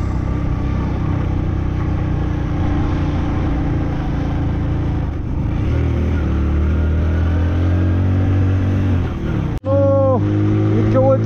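A Hero Passion Pro motorcycle engine labours on a steep climb, a steady close drone whose pitch shifts as it strains, broken by a brief drop and a sharp change near the end.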